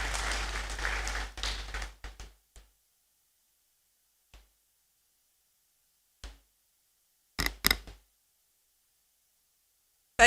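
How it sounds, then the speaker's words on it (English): A crowd in the Great Hall at a university congregation ceremony applauds the incoming Registrar, a couple of seconds of clapping that quickly dies away, leaving near silence broken by a few faint isolated knocks. "With a round of applause, please welcome the Registrar"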